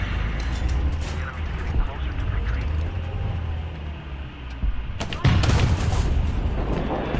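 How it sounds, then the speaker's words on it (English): War Thunder tank cannon fire and battle noise: a dense, rumbling background of distant shots, then a sharp, loud blast near the end, with a voice talking over parts of it. "there's something else shooting at me"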